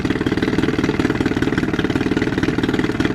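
A Johnson/Evinrude 9.9/15hp outboard motor idles during a tune-up, a steady loud putter with a fast even pulse, close and continuous with no talk.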